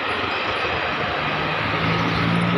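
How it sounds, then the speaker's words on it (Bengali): A train rolls past near Phulnagar station beside a village market, a steady broadband rumble that stays close and level for the whole stretch without a break. "দেখতে পাচ্ছেন, এই ট্রেন যাচ্ছে"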